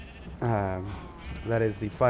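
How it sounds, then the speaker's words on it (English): Sheep bleating in the Minecraft modpack CryptiCraft: two loud, wavering bleats close by, the first about half a second long and the second shorter, with another starting at the end. "Oh, freaking sheep."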